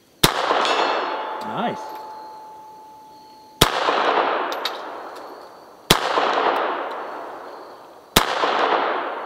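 A Beretta 81 pistol fires four sharp, evenly spaced shots at a 100-yard target, each crack trailing off in a long ringing decay, with a brief spoken word between the first two.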